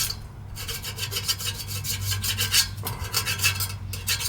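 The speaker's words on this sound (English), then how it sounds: "At least scrape some of the shit off of there." Dust and grime being scraped off a furnace blower fan in an AC system, a steady close rasping scrape repeated in quick strokes with brief pauses, no voices over it.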